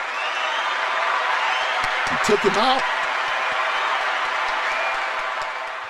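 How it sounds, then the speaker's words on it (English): Applause and cheering from a crowd at a talk, with a voice speaking briefly over the steady clapping, which holds throughout. "Where's my applause at, right?"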